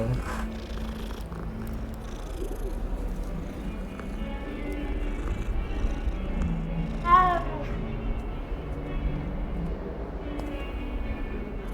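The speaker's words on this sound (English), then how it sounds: "Oh, kitten." A cat in the video game Hogwarts Legacy purrs steadily and gives one short meow partway through, set against low ambient game sound.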